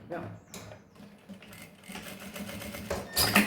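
A sewing machine runs a seam around a mesh fanny pack in short, uneven bursts, the presser foot guiding the stitching while a person talks over the mechanical whirring.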